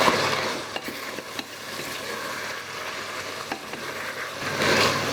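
Tomato paste and spices such as chili flakes, black pepper and salt being stirred and fried in a pan for Uzbek pilaf, a steady soft sizzle with scattered clinks and scrapes of a utensil throughout.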